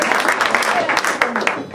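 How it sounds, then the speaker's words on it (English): Applause from a room of Democrats at a 2011 Hudson gathering, a brief patter of scattered clapping mixed with voices. "please give yourself a hand of applause"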